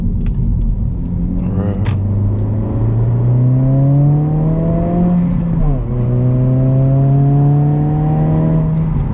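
A 2022 Honda Civic Si in sport mode accelerating through the gears, its engine note climbing steadily, dipping at a shift and rising again, loud and close from inside the cabin.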